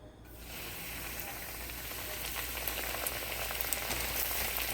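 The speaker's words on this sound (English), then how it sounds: "get it coated nice and good, and then drop it in our cast iron skillet" Flour-coated pot roast meat searing in hot oil in a cast iron skillet, a steady, dense sizzle and hiss that holds close and loud throughout with no talking.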